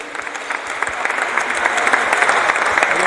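At the end of a talk on teaching basketball touch, an audience breaks into dense applause that swells and holds at full strength, with many hands clapping.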